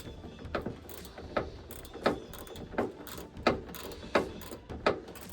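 A ratchet fitted with a 10mm socket loosens screws, giving about eight evenly spaced clicking strokes at close range, each a short ratcheting burst, with no talking.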